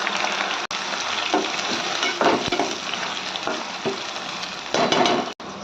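Masala paste for Andhra fish curry sizzles and fries steadily in a hot pan, a continuous close hiss with periodic stirring scrapes and brief louder bursts as it is moved around.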